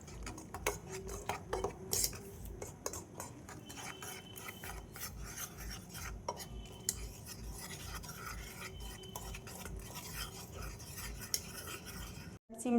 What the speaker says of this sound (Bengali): মিশিয়ে নেব, জল দিয়ে দেবো, দিয়ে ব্যাটারটা গুলে নেব